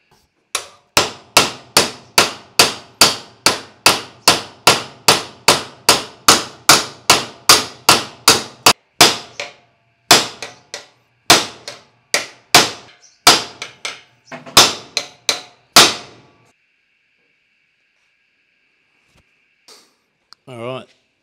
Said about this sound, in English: hammer the other end of the rivets